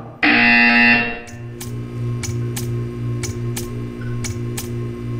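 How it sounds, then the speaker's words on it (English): A loud, harsh electronic buzzer from the video game Portal 2 sounds for about a second, then a steady hum continues with faint regular ticking. "You will hear a buzzer."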